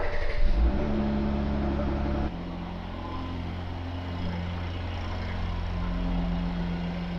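A car engine turns over during a battery cranking test, giving a loud steady churn that drops into an even idle hum partway through.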